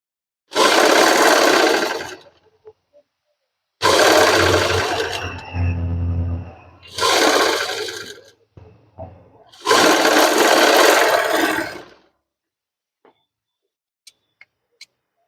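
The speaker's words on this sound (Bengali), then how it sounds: "এক সাইডে আমি সেলাই করলাম আর ওই সাইডে সেলাই হবে" A sewing machine stitches piping onto a shirt collar in four loud bursts of rapid running, separated by pauses with faint handling noise and soft clicks at the end.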